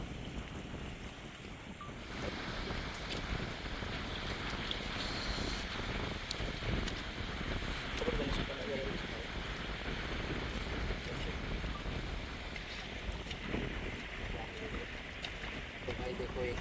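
Strong wind gusts roar steadily across a seashore during octopus hunting, with waves washing in the background and voices occasionally talking under the blustery noise.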